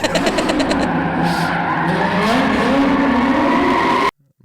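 A car drifting and skidding with the e-brake pulled, engine revving hard and tires squealing in a sustained loud slide for about four seconds before cutting off abruptly.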